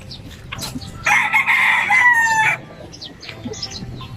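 Fighting-cock roosters cluck nearby and one lets out a loud, drawn-out crow lasting over a second, with softer clucks and rustling before and after.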